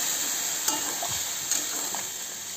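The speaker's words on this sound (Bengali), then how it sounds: "এবার এতে জল দিয়ে দেবো" Spiced mixture frying in a pan, with a steady close sizzle throughout and a few faint stirring scrapes and clinks.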